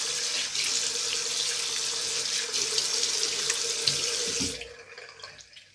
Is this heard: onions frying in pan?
no